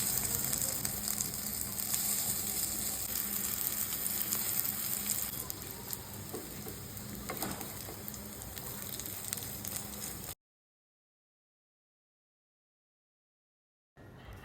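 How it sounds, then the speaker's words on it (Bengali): Kebabs fry in a little oil with a steady, bright sizzle and crackle that carries on for about ten seconds before cutting abruptly to silence. "এখন আমি এটা অল্প তেলে, এই কাবাবটা অল্প তেলে আমি ভাজবো"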